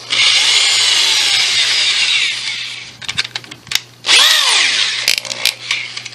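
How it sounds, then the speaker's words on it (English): A power drill fitted with a hole saw bit cuts into wood, a loud sustained whine for about two seconds, then short stuttering bursts as the trigger is feathered, and another strong run with rising and falling pitch. "Now I'm going to switch out to my hole saw bit."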